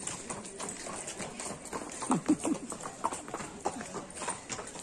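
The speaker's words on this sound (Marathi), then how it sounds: "घोडे बघा घोडे बघा घोडे हे बघा इथं" Horses walk past on a path at the Matheran hill station, their hooves clip-clopping in a loose, uneven rhythm, soft and somewhat distant under faint background chatter.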